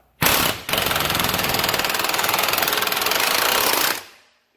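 A pneumatic air impact gun hammers steadily on a press, pushing out a ball joint on a Corvette C4. The loud rapid rattle runs continuously for about four seconds after one short burst, then stops.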